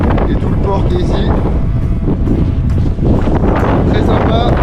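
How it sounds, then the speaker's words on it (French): Strong wind in a Norwegian harbour village in Fredvang, roaring steadily and loudly as it buffets the microphone throughout. "Il y a vraiment beaucoup de vent."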